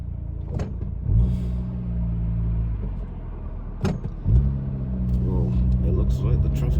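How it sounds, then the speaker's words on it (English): Steady low rumble of heavy road traffic on the route through Astley via the East Lancs road, engines droning and idling continuously with a couple of louder passing vehicles, while people chat over it. "Looks like the traffic's really bad."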